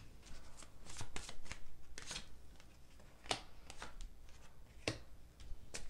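A tarot deck is shuffled by hand up close, giving quiet, rapid riffling and flicking of cards in uneven bursts over a few seconds.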